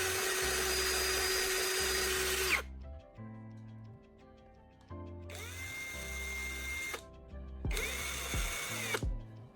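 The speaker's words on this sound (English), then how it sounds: "By pressing the rotating carbon rod against the sandpaper, I can quickly create a perfectly pointed tip for the soldering iron." A rotating carbon rod pressed against sandpaper to grind a pointed tip, heard as a loud whirring, grinding motor in three bursts with short pauses between, up close and with no voices.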